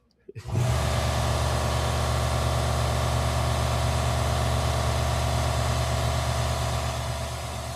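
An air compressor runs steadily and loudly at a car event, starting abruptly after a brief quiet moment and holding a constant, even drone throughout with a faint tailing-off near the end.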